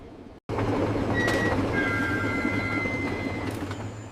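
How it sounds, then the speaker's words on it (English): Train slowing down as an audiobook sound effect, a sudden steady rumble of wheels on rails with faint high squeals, gradually easing off. "Then, on the third day, the train slowed unexpectedly."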